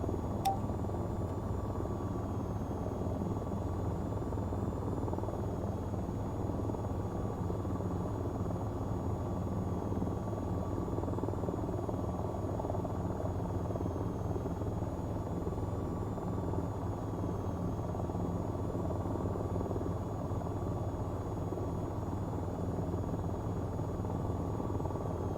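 AH-94 attack helicopter flying in the VR flight game VTOL VR, a continuous steady rotor and engine drone with a faint high whine, unchanging for the whole stretch.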